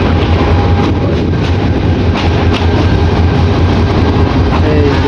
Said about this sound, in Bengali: এসে পৌঁছালাম গফরগাঁও রেল স্টেশন